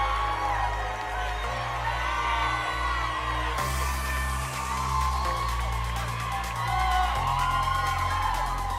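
A crowd at the Miss USA 2023 preliminary swimsuit competition cheers and whoops for the contestants, a steady wash of voices and applause carried over loud pageant music with a deep sustained bass line.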